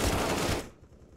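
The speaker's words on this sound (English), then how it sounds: "And those are like AKs." A burst of AK rifle fire in Counter-Strike: Global Offensive, loud and dense rapid shots for about half a second, then cutting off into a quieter tail.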